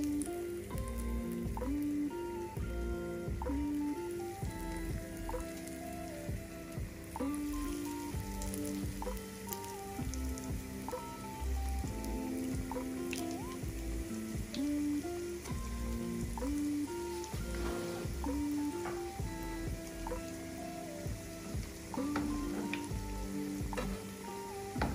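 Fish cutlets fry in hot oil in a pan, a steady close crackle and spitting sizzle with scattered pops that continues evenly throughout, no talking.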